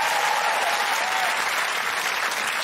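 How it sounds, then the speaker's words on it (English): An audience applauds steadily, a dense wash of clapping from a crowd that holds at an even level throughout. "Give them a round of applause"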